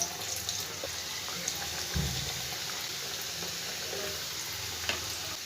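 Chicken singaras frying in hot oil, a continuous close crackling sizzle with a brief louder splash or bubble burst near the middle, no talk over it.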